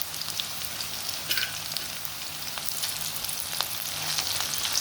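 Grated raw coconut frying in a pan with browned dried red chillies and cumin, a continuous close hissing sizzle with scattered crackles and stirring, no voices.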